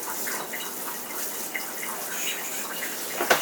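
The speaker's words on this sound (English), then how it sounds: "So I'm using cold water to rinse the sprouts with" Cold water running from a tap to rinse barley sprouts, a steady hissing splash of moderate loudness throughout with a few brief spatters and a louder splash near the end, no talking.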